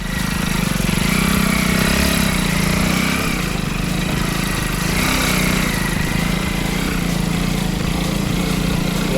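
Motorbike engine running on a road near an old Shiva cave temple in Udupi, Karnataka, a steady loud low drone lasting the whole stretch with no speech over it.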